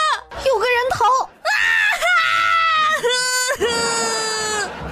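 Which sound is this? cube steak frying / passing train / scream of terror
scream of terror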